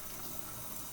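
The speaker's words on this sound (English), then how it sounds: "Hopefully you guys can hear the water, I assume." Water splashes and trickles steadily as an acrylic paintbrush is rinsed, a soft close-up wet rushing sound at low level with no speech.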